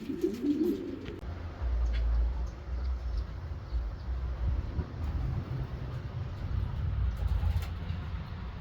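Racing pigeons coo softly in a backyard loft after a 400-mile race, low murmuring calls that are strongest at the start, over steady outdoor ambience with no talking.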